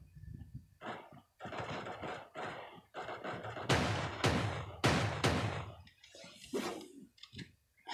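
Gunfire in the battle royale game Creative Destruction, including a revolver: a series of sharp shots in uneven bursts, with several louder cracks near the middle and fainter, scattered pops around them.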